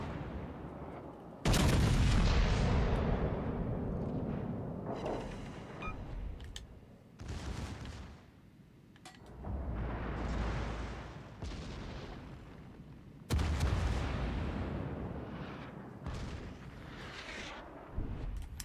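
Heavy naval gunfire from battleship turrets in the World of Warships Legends video game: several loud booming salvos with long rumbling tails, separated by brief lulls, with no talking.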